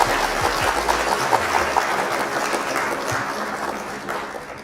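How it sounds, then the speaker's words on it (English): Applause from a crowd for an opponent at a live Flesh and Blood trading card game event, a steady clapping wash lasting the whole stretch at moderate loudness. "round of applause to our opponent."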